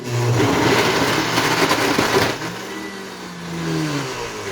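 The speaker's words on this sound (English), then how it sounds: "Turn on the blender." A countertop blender whirs steadily for about two seconds while blending a smoothie with added water, then the motor winds down into a lower, fading hum.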